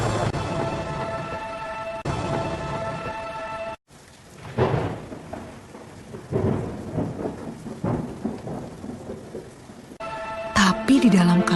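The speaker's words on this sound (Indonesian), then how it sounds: "Hujan turun sangat deras, sampai air menutupi ladang-ladang" Heavy rain pours down with rolling thunder in an animated scene of Noah's flood, a steady downpour broken by deep rumbles, with a voice speaking over it.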